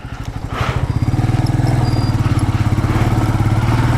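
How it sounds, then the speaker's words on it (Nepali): A Royal Enfield Meteor 350 motorcycle engine runs close by with a rapid, even single-cylinder thumping beat that settles into a steady rhythmic putter. "आज चाहिँ मसँग छ रोयल इनफिल्ड मेटियोर 350"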